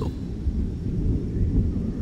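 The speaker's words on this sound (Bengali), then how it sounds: "আর ঠিক সেই মুহূর্তে কোথাও একটা বাজ পড়ল।" Thunder sounds in a ghost-story setting on a stormy farmhouse night, a deep continuous rolling rumble that stays loud and low throughout the short stretch, with no voices.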